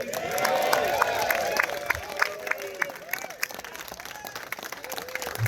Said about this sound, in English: Caregivers, you better get out of those seats and clap your hands.